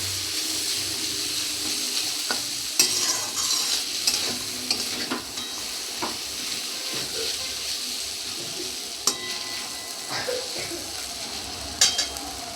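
Food frying in a pan is stirred close up, with a continuous hissing sizzle broken by scattered scraping knocks of the utensil against the pan; no one talks.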